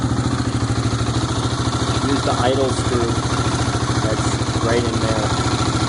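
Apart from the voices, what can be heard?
Yamaha WR250R motorcycle engine idling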